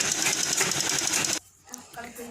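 Sewing machine stitching a blouse lining, a fast, steady mechanical chatter close by for over a second, then stopping abruptly, followed by faint rustling and someone speaking quietly.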